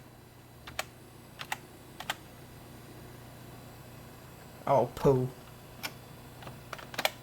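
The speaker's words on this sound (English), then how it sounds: "typed it into the wrong keyboard" Scattered computer keyboard clicks tapped in short bursts over a faint hiss, with a brief spoken exclamation in the middle.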